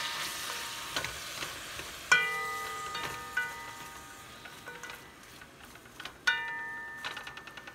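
Chili pepper and onion frying in oil, a soft steady sizzle punctuated by several sharp metallic clinks of a utensil against the pot, some ringing briefly, with no voices.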